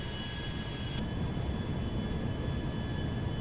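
Concorde airplane mod coming in to land in GTA 5, a steady loud broadband engine roar with a continuous rumble, no talk.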